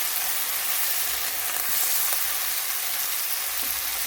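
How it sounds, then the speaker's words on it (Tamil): Onions and spices for a soya paneer curry sauté in a pan, giving a loud, even frying hiss that holds steady throughout, close by and without voices. "அப்போ இவருக்கா நல்லா வதங்கட்டும்"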